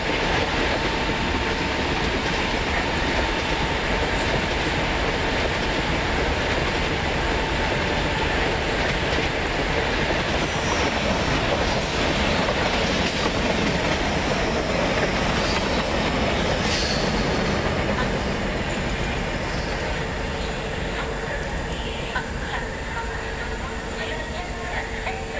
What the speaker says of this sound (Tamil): அந்த ட்ரெயின் வந்து நம்மளை கிராஸ் பண்ணிகிட்டு இருக்கு இப்போதைக்கு